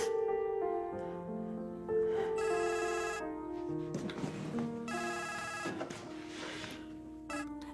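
A telephone rings indoors in a repeating electronic tone pattern, steady and moderately loud, before the call is picked up.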